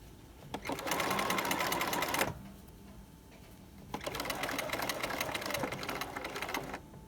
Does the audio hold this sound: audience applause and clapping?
no